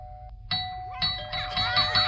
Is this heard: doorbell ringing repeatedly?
yes